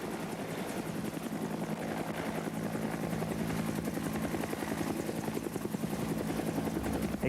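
A military helicopter flies close by on a special operations mission, its rotor chop a loud, steady, rapid pulsing that runs continuously throughout with no talking.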